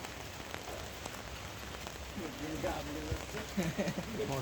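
Rain pattering steadily on surfaces outdoors during work on a high-voltage power line, a soft continuous patter with faint voices and movement underneath.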